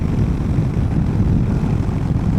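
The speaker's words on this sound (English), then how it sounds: "it's actually pretty gusty out here" Gusty wind buffets the microphone outdoors beside a motorcycle, a loud, steady low roar and rumble that barely lets up across the stretch.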